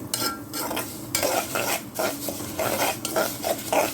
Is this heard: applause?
no